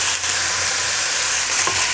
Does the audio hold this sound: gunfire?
no